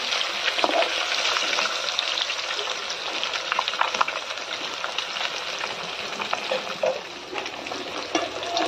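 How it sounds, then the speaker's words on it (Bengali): Pieces of rohu fish fry in hot oil, turned to cook both sides, giving a loud, continuous close sizzle with light crackling throughout. "মাছগুলো আমরা এপিট ওপিট ভালো করে ভেজে নিচ্ছি।"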